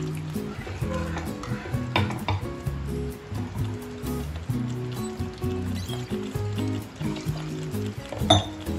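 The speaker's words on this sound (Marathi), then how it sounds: "आपल्याला जेवढा मसाला म्हणजे घट्ट पातळ भाजी पाहिजे आपल्याला तेवढंच पाणी टाकायचंय" Water poured into an egg curry in a pan, a continuous liquid pour and bubbling with faint stirring, close and moderately loud.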